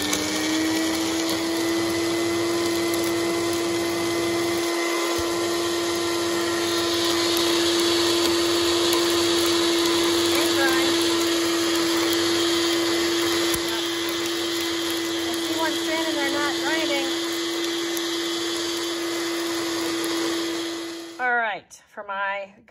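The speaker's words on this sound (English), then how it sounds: "I put it in the spice mill, right, or in the Magic Bullet," A spice mill or Magic Bullet blender grinds oven-dried wild garlic stems and leaves with a loud, steady motor whine that runs almost twenty seconds before stopping abruptly, and faint talking can be heard beneath it.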